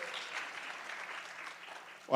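Light audience applause for Scott Bailey, co-founder and president of the Blacksburg Refugee Partnership, soft and even across the room, then a brief louder sound right at the end.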